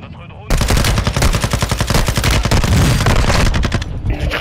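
Rapid automatic gunfire in a video game, loud dense bursts of shots rattling almost continuously for about four seconds after a brief quieter lead-in, with no talk over it.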